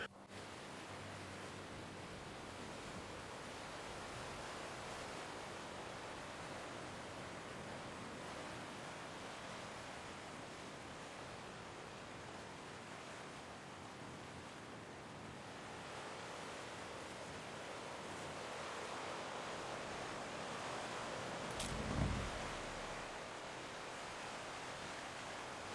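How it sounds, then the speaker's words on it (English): Ocean waves wash steadily in the Roman-era strategy game ANNO 117: Pax Romana, a soft continuous surf hiss that swells slightly near the end, faint and alone. "Gliding over the waves."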